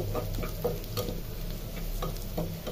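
Spices fry in a small saucepan, sizzling steadily while a spoon stirs and scrapes in repeated strokes, close and fairly loud with no talking.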